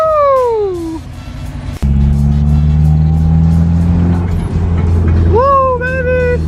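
A Subaru STi engine, back on after a long idle and running hot during a rebuild, idles with a loud steady drone after a sharp catch, with excited voices and whoops over it at the start and end.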